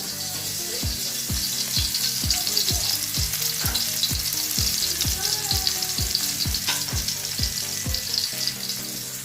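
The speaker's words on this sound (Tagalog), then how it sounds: "Prituin mo natin yung bawang." Garlic frying in hot oil in a pan while cooking sarciadong isda, a steady close sizzle and crackle running throughout with regular rhythmic scraping strokes of a utensil stirring the pan.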